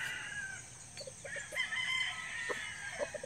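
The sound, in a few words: chicken clucking and crowing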